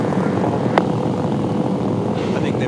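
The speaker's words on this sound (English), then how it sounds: "The car's been sitting there on the rev limiter forever." A loud, continuous V8 Supercars race car engine drone held on the rev limiter at Oran Park, dense and steady, with a brief sharp click partway through and a faint voice underneath.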